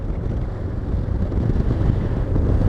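Steady low wind buffeting roars against the rider's microphone aboard a VOGE 500DSX motorcycle on an upright ride, a continuous dense rumble with no voices.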